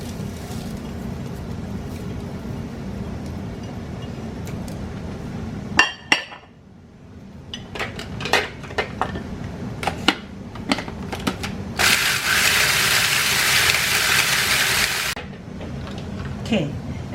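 Electric blender whirring through crispy garlic for a Lao sukiyaki sauce, a bright sustained buzz lasting a few seconds after clinks of glass and utensils and a low rumbling hum.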